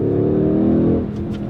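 A Mercedes-AMG GLC 63 S Coupe V8 accelerates with its exhaust valves open, a deep, throaty exhaust drone that holds steady, then eases off slightly near the end.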